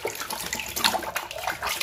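Water runs and splashes over a small brown toy police car as it is rinsed clean, a steady close tap-like flow with brief louder splashes, no voices.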